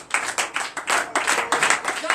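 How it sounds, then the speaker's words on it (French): A church congregation at a Sunday worship service in Comè, Benin, claps in acclamation for Jesus, a loud, rhythmic run of bursts close by, with voices mixed into the clapping. "Donnez l'acclamation à Jésus."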